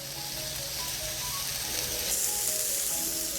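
Onions and vegetables sizzle steadily in a hot pan while cooking down for cauliflower fried rice, a continuous close frying hiss with faint clinks, growing slightly louder partway through.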